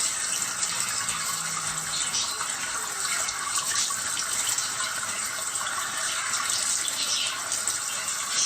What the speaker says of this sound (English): Let me wash my face and then give it to you.